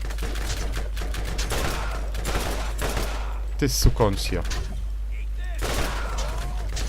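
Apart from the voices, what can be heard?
gunfire in the video game Borderlands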